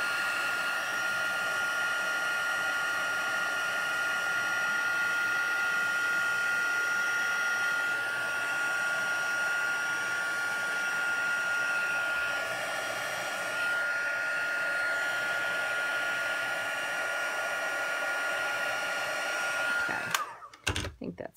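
Heat tool blowing steadily to melt white embossing powder over Versamark and white craft ink on a Stampin' Up! stamped card; a continuous close whooshing hum for about twenty seconds, then switched off with brief handling noises.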